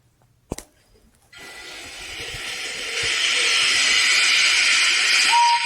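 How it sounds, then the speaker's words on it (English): A sharp knock, then a loud steady hiss from a steam locomotive getting up steam that swells and grows louder, ending with a brief whistle-like tone. "When Henry had got up steam, he puffed out."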